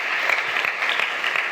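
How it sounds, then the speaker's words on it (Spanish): A church congregation applauds during a Spanish-language sermon, giving a strong burst of dense, continuous clapping that holds steady and fairly loud throughout. "Dale un fuerte aplauso al Rey por su palabra."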